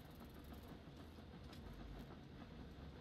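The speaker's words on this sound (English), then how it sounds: "As soon as the train pulls in," Rumbling train in the Train Valley 2 video game, rolling steadily at a moderate level with a faint clickety-clack for a few seconds, no talk.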